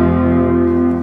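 A worn, out-of-tune grand piano rings out in one sustained chord, beating and slightly sour, loud and close with a slow decay and no talking.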